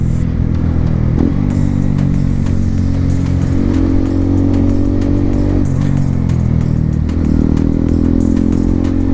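A motorcycle engine drones loudly and continuously up close while riding through town, pitch climbing in several successive accelerations with gear changes between them, with no talk over it.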